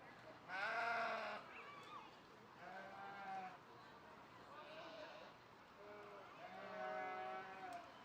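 Sheep bleat at a junior livestock show ring during a ram class, several separate bleats spread over a few seconds against a quiet indoor background.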